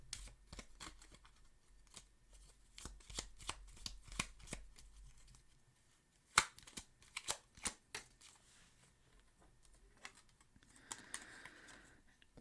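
Tarot cards are shuffled up close with sharp riffling snaps and taps in irregular bursts. The cards go quieter, then return in a louder flurry, then a softer rustle, with no talking.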